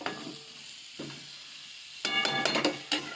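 Soy chunk and potato curry being stirred in a pan, with soft scraping strokes over a faint sizzle, first quiet and sparse, then a louder busier run of stirring near the end.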